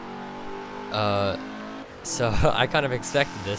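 Volvo XC90 driving in Forza Motorsport 7, a smooth engine drone that rises in a quick acceleration with a brief tire squeal, heard under someone talking.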